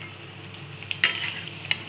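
Kadaki bhaji fritters fry in hot oil as they are flipped, giving a steady soft sizzle with a few sharp clinks and splashes from the turning, all close and with no talking.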